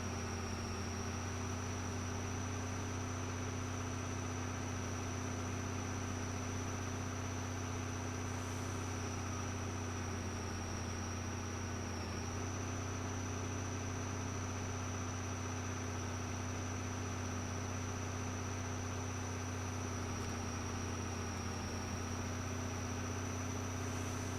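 Steady, droning tractor engine in Farming Simulator 22, a constant low rumble with a sustained mechanical whine on top, even in loudness and unbroken for the whole stretch, with no talking.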